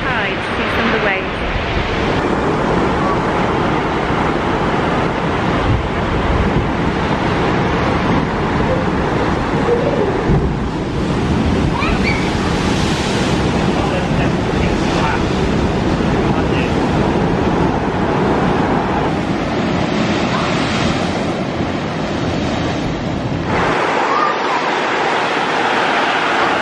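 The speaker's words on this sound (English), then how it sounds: "We're here at St. Agnes watching at high tide to see some of the waves." High-tide ocean waves at St. Agnes, Cornwall, roar and crash continuously under strong wind buffeting the microphone, loud and close throughout, with surges of surf rising and falling and the wind briefly easing near the end.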